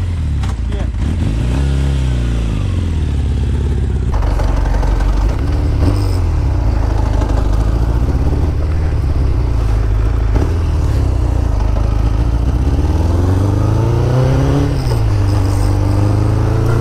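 A cheap motorcycle on the road from Vilnius to Klaipėda, its engine droning steadily and loud, rising and falling as the rider changes speed, with wind rumble and a voice talking over it.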